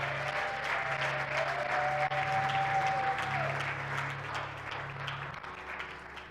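A church congregation applauds and cheers in praise, sustained dense clapping filling a large room, with sung or shouted tones over it before it fades slightly toward the end.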